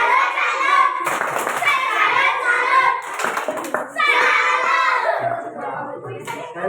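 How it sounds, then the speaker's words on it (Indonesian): Schoolchildren in an Indonesian-language classroom clap a rhythmic salute for the first group's presentation, bright close hand claps mixed with kids' voices and chatter throughout. "kita beri tepuk salut untuk kelompok 1 dari Queen TikTok"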